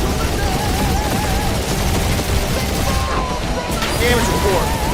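Turrets fire in Marvel's Guardians of the Galaxy video game, heard as a dense, continuous barrage of rapid shots and booms under a busy mix of combat noise, music and speech.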